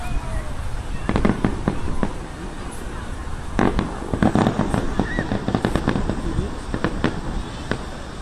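Fireworks salute bursting outdoors in honor of an anniversary, a string of sharp scattered bangs and crackles, some near and some distant, with people talking over the rumble.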